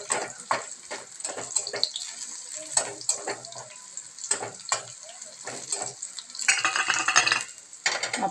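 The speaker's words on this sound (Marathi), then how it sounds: "मी जिरं, एक हिरवी मिरची आणि लसूण मी परतून घेत आहे." Cumin, a green chili and garlic fry in a pan for a methi (fenugreek) dish, giving soft broadband crackle with repeated stirring clatters and a louder sizzling burst near the end.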